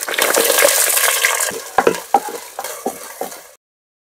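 Sesame oil crackles and sizzles loudly as fenugreek, curry leaves and small onions hit the pan, then settles into stirring scrapes before cutting off.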